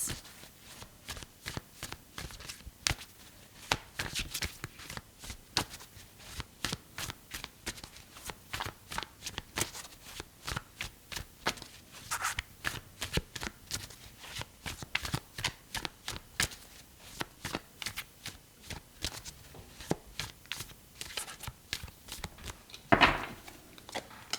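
Tarot cards shuffled continuously for a reading, a dense run of crisp riffling and slapping bursts close by, alone without talk, with a louder thump near the end.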